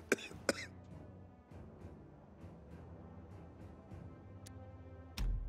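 A game character in Dying Light 2 coughs twice in quick succession near the start, close and fairly loud. Quiet game ambience and a low background hum follow, with a sharper sound near the end.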